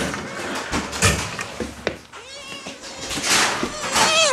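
Two small kittens meow repeatedly in the morning, high and insistent, close by, with rustling and a few knocks around them.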